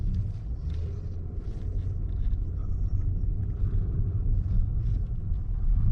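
A 2022 Mercedes-Maybach S580 with a V8 engine pulls away, its low, steady rumble continuous and close throughout, with a faint cabin and road hum and no speech.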